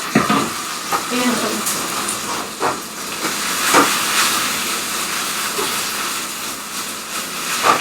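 Drained rice noodles tossed into a hot pan: a loud, continuous steamy hiss with scattered scrapes and stirring clatter, steady throughout with small bursts.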